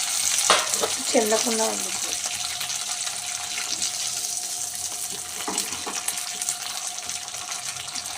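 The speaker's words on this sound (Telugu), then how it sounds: "పల్లీలు కూడా వేసేస్తున్నాను" Peanuts frying in a pan for chutney, a steady close sizzle with a few stirring scrapes, while someone speaks briefly near the start.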